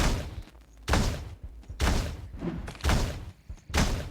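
Heavy rifle shots fired in the Teleglitch video game, five loud, sharp, booming blasts spaced roughly evenly, each with a short tail, with no talking.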